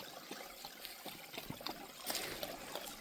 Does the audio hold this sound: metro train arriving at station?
no